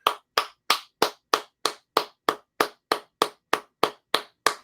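Fourteen sharp, evenly spaced hand claps from one person, close and crisp, each with a quick decay and silence in between, no voices.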